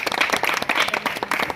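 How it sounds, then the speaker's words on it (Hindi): Applause from a crowd at a felicitation for a Bihar science topper, a shopkeeper's son, steady and fairly loud, with dense overlapping claps filling the short stretch. "जोरदार ताली बजाइए आप लोग"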